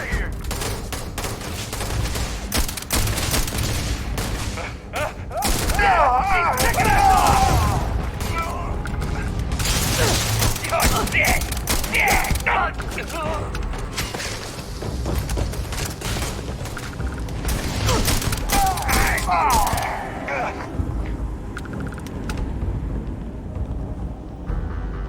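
Gunfire in the sci-fi shooter Starfield comes as dense, sustained bursts of rapid shots with booming impacts and mechanical clatter, loud and continuous for most of the stretch.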